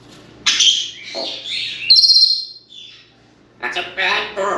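Parrot at home vocalizing up close, a series of loud squawks and sharp whistling chirps in uneven bursts separated by short pauses, with a person speaking in between.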